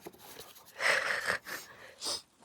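Tired hikers climbing uphill on the Eagle Rock Loop in Arkansas breathe heavily, with a few loud rasping, wheezy breaths close by and no speech.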